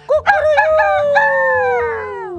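A human voice imitating a rooster's crow, one drawn-out call rising and then sliding down, close and loud.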